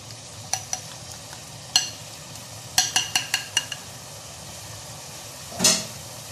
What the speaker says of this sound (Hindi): अब मैं इसमें डालूंगी दही वाला मिक्सचर।